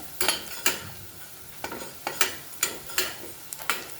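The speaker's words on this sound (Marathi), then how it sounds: "हा मसालाही आपल्याला व्यवस्थित भाजून घ्यायचा आहे" A spoon stirring spices with asafoetida and turmeric as they roast in a pan, sharp scrapes and taps landing about every half second over a soft background, close and fairly quiet, no voices.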